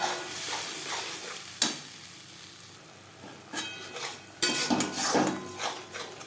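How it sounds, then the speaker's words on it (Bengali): Ginger, green and red chilli, onion and tomato paste frying in oil in a kadai used for frying fish, with a steady close sizzle broken by sharp scraping stirs and clinks of a spatula against the pan. "মাছ ভেজে নেওয়া কড়াইতে আবারও তেল দিয়েছি দিয়ে দেবো আদা কাঁচা পাকা লঙ্কা পেঁয়াজ টমেটো যেটা আমি একসাথে বেটে নিয়েছি"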